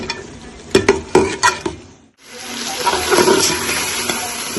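Finely chopped potatoes go into minced meat frying in ghee with a little vinegar: a few sharp spoon clatters against the pot, a brief hush, then a loud, steady close-up sizzle.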